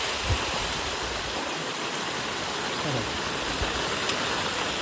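Heavy rain pours down in Botad village as a dense, even roar of falling water that never lets up, with a few faint thuds and knocks buried in the noise.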